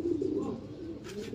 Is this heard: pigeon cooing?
yes